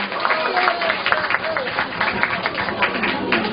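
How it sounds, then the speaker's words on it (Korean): Guests at a baby's first birthday party clap together in a sustained patter of many hands, while a host's voice talks over the applause the whole time. "다시 한번 큰 박수"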